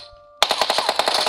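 Rapid automatic gunfire in the PUBG video game bursts in abruptly after a quiet moment, a loud, close stream of evenly spaced shots continuing to the end.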